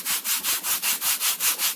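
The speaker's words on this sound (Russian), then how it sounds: "Шлифую до получения желаемого результата." Leather edge being sanded by hand, a steady back-and-forth rasp of about ten even strokes, close and loud with no voices.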